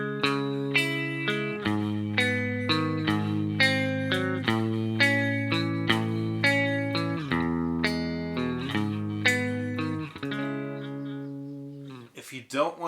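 The same effected electric guitar chord progression taken up to speed, with chords strummed in quicker succession, ringing and clear, ending in a few scattered notes.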